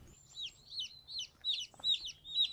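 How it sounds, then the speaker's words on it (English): Hens feeding on corn give a run of about six short, bright clucking calls in steady succession, close by with no talk. "I'm looking after some hens today."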